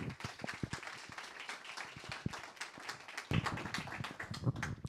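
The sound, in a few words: audience applause welcoming a speaker on stage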